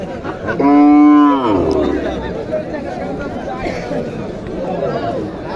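A cow lets out a loud, drawn-out moo close by at a cattle market, followed by a steady hubbub of people chattering in a busy outdoor crowd.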